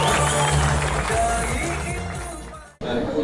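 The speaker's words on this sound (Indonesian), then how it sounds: "Beri tepuk tangan untuk yang berjoget" An outdoor crowd claps and cheers for dancers at the close of a joint TNI AD and US Army training exercise, in a dense steady roar that cuts off abruptly, then resumes briefly.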